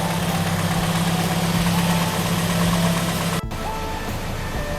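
A Toyota Vios engine idles steadily with a smooth, even hum throughout an engine flush. About two-thirds of the way through the drone drops slightly in level and then carries on.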